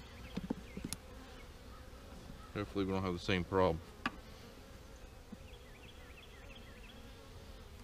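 Honey bees hum steadily around an open hive during an emergency comb repair, a thin continuous drone that runs throughout while someone speaks briefly partway through.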